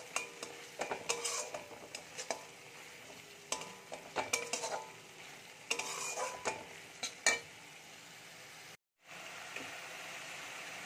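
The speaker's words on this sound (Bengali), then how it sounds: "এই মশলাগুলো খুব ভালো করে কষিয়ে নেব" Cumin and coriander powder frying in oil in a pan, for a pointed gourd and egg pudding, with a steady sizzle broken by repeated scraping and clinking of a spoon against the metal, and one brief drop to silence near the end.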